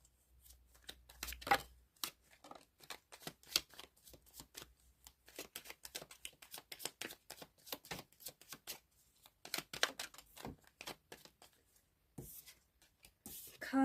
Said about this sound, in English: Cards are certainly flying out.